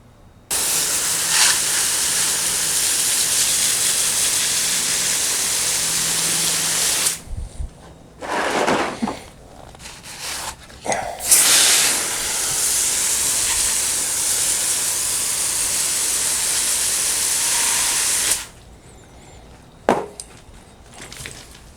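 Water rushes through an underground sprinkler line being flushed, a loud steady hiss that cuts off briefly, surges back for several seconds, then stops near the end.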